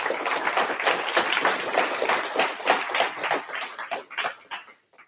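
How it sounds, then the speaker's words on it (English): An audience at a programming conference in London claps steadily, a dense patter of many hands that tapers off toward the end. "Give him a round of applause."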